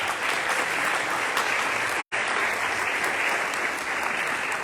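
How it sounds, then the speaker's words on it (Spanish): Applause for Marcos Reyes from an audience at a book presentation: steady, dense clapping that carries through the whole stretch, broken only by a brief dropout in the middle. "pido un aplauso para Marcos Reyes"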